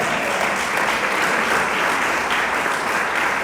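A church congregation clapping together during a sermon, a dense, steady wash of hand claps at moderate volume with no talk over it.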